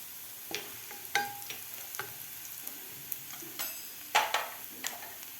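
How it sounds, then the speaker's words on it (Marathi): Dry red chillies and asafoetida crackle in hot oil while being stirred for a dhaba-style peas and spinach curry: quiet, scattered pops and ticking clicks over a faint sizzle, with no talking. "यामध्ये घालायचे आपल्याला लाल सुक्या मिरच्या हिंग घालायचा आहे"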